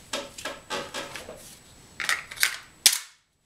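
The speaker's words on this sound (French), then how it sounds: "quand on tire ce genre de cartouches à blanc qui sont chargées à poudre noire, ça fait un bruit très, très sourd et très, très important" BBM Bruni GAP blank-firing alarm pistol, a Glock 17 copy, firing black-powder blanks, a rapid series of around eight sharp, loud reports followed by a metallic clack, with no talking.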